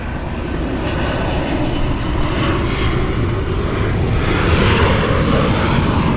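A United Airlines plane at Los Angeles International Airport gives off a loud, steady engine roar that holds and swells slightly over several seconds, with no voices.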